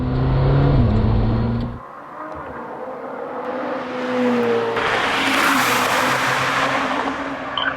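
A Lamborghini Temerario roars through a tunnel, its engine booming close and loud, dropping briefly, then rising as a harsh, echoing sweep as the car passes and fades away.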